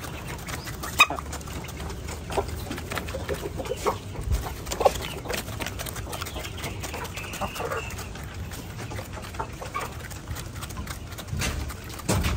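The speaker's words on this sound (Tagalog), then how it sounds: "Habang kumakain pa sila mga ka-agri" Rhode Island Red hens cluck and peck while feeding in a busy coop, their soft calls scattered through a steady bed of rustling and clattering noise, fairly close and moderately loud with no talk.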